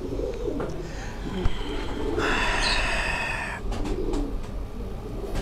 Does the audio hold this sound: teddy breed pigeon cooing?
yes